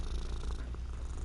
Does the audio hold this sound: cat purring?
yes